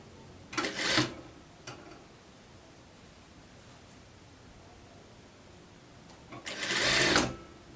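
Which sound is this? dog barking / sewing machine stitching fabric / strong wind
sewing machine stitching fabric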